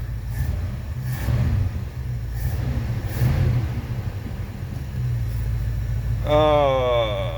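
A Ford Galaxie 500 engine rumbles steadily up close while in forward gear, with a brief rising whine near the end.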